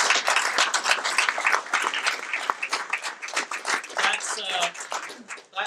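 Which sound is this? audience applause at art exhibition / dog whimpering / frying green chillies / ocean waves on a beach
audience applause at art exhibition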